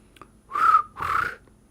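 A person whistles to imitate a cricket chirp, giving two close, sustained whistled notes in a row, each about half a second long, separated by a short gap and standing alone in a quiet room.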